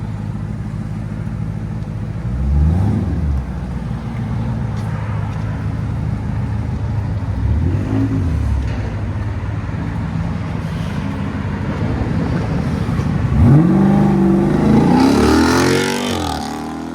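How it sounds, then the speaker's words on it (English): A loud 2017 Jeep Grand Cherokee SRT 6.4L HEMI V8 with straight-pipe exhaust, X-pipe and 6-inch tips revs repeatedly with a deep, throaty exhaust rumble, the final rev climbing highest. "Fully straight pipe with an X pipe and 6-inch massive tips"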